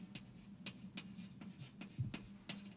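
Pen or pencil writing out circuit loop equations, a quiet close scratching in short regular strokes about every half second, with no speech.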